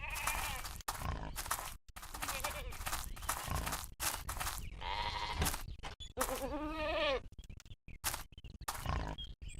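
Goats bleat in a farming video game while a player talks over them, with repeated wavering animal calls rising through the mix between stretches of speech.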